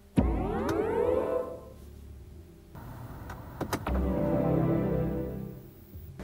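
BMW electric car start-up sound composed by Hans Zimmer: a sudden swelling electronic tone with sweeping, rising layers, a brief lull, then a second rich sustained swell over low hum, clear and without talk.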